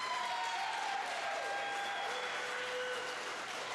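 Steady applause and cheering from the crowd at a small-town wrestling show in Lake City, Tennessee, a dense continuous clapping wash heard from within the hall, with faint whistles on top.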